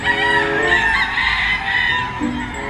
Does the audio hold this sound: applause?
no